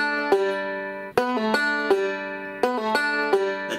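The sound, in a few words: banjo pull-offs, Salt Creek bluegrass lick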